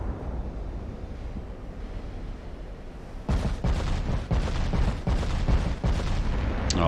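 Naval guns of a Montana-class battleship firing in Ultimate Admiral: Dreadnoughts, a series of about eight heavy booming salvos in rapid succession after a few seconds of wind and sea rumble.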